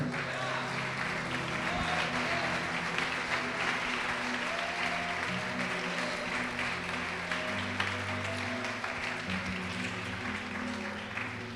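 A church congregation applauds steadily for several seconds during a sermon, a dense wash of clapping with voices and a low musical hum underneath.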